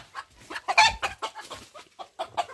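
Young farm hens cluck and squawk close by in quick, irregular bursts, with a few sharper calls among the short clucks and no talking.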